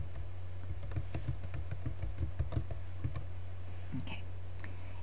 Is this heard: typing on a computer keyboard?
yes